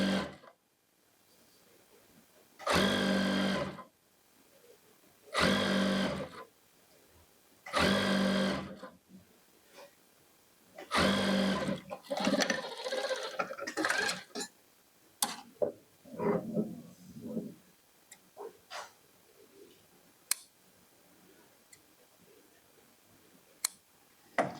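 A sewing machine stitches a kurti in several short, loud bursts of about a second each, separated by pauses. Scattered clicks and fabric handling follow, with quieter taps toward the end.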